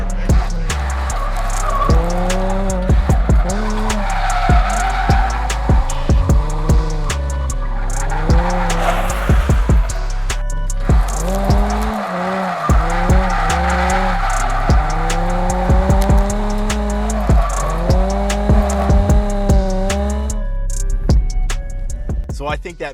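Nissan 350Z drifting on a street with a new wheel and tire setup: loud engine revving in rising and falling pulls with tires squealing and skidding throughout, close and continuous, with bursts of talk mixed in.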